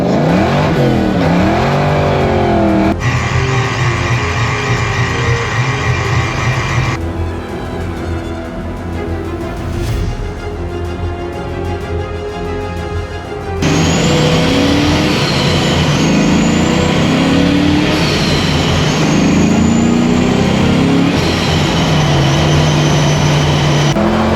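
Car engine fitted with a B303 camshaft and tuned to sound like a solid roller cam, revving loud and close in repeated rising and falling pulls with a lumpy idle between.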